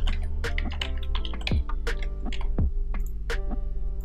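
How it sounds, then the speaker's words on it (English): Keys tapped on a computer keyboard while entering text, a steady run of close, crisp clicks with irregular spacing and a few heavier strokes. "Type our text."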